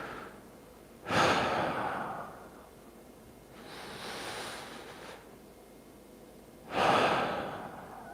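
Slow, deep breaths during a beginner's full-body mobility routine: a loud inhale, a softer longer exhale, then another strong inhale, each breath drawn out over a second or more, close to the microphone with no talking.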